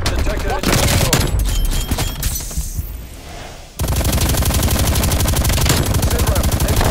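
Rapid automatic gunfire from an enemy sentry turret in Call of Duty Cold War plays as dense, continuous bursts that dip briefly midway, then return at full loudness, with game voices faintly underneath.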